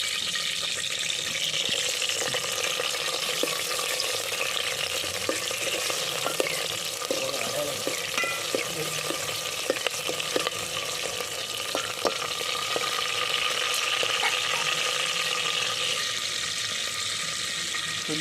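Onions sizzling steadily in a hot pan, a continuous loud frying hiss with faint clinks and stirring throughout, no talking.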